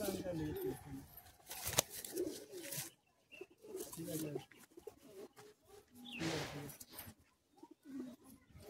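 Caged Madrasi high-flying pigeons in Kolkata coo in short, throaty bursts, close and intermittent, while someone talks over them at times.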